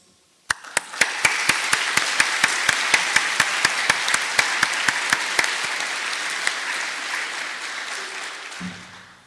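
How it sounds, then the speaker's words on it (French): An audience at a graduation ceremony breaks into sustained applause to thank the teachers, dense clapping holding steady for about eight seconds before tapering off, with no talk. "Prenez le temps, s'il vous plaît, de les applaudir pour les remercier."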